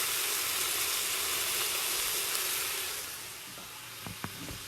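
Onions fry hard in a pot for split pea soup with a loud, dense sizzle and hiss that drops in level partway through, followed by a few brief knocks and clinks.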